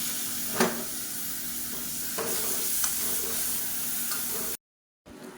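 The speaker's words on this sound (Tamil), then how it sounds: "இது எல்லாத்தையுமே லேசாக இந்த எண்ணெயில் வதக்கி விட்டுக்கலாம்" Chili powder and blended onion paste sizzle steadily in hot frying oil, with a few scraping stirs, before a brief cut to silence near the end.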